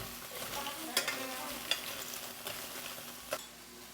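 Vegetables for homemade salsa frying and browning in a pan, a soft continuous sizzle broken by a few sharp clatters as they are stirred and flipped.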